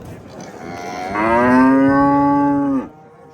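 A cow at a busy livestock market lets out one long, loud, close moo that swells midway and holds before cutting off, over a low murmur of market background.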